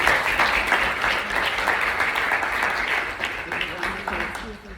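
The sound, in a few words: audience applause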